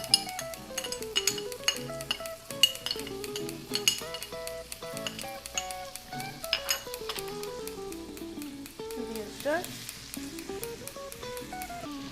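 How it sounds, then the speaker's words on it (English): Garlic and ginger sautéing in oil in a pan over medium-high heat for General Tso's chicken, a gentle sizzle beneath frequent light utensil clinks and scraping, close and steady, with no talk. "add 2 tablespoons of oil. Add the garlic and ginger we chopped"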